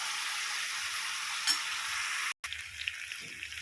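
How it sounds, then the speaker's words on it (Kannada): Food fries and roasts in hot oil in a pan, giving a continuous dense sizzle, close and fairly quiet, broken by a brief silent gap and a few soft stirring knocks. "ನೀಟಾಗಿ ಫ್ರೈ ಮಾಡ್ತೀನಿ, ರೋಸ್ಟ್ ಮಾಡ್ತೀನಿ."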